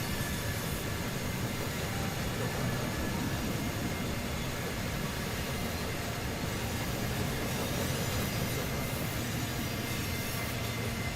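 A heavy 9,500-ton freight train climbing Tehachapi in Run 8 Train Simulator, its locomotive straining under load with a dense, steady rumble and rail noise that fills the whole stretch, loud and unbroken.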